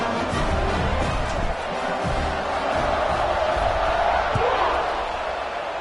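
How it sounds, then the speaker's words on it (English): A large stadium football crowd roars steadily, a dense continuous wall of cheering and noise with no clear breaks. "You think this crowd's going to get loud when their defense comes on the field?"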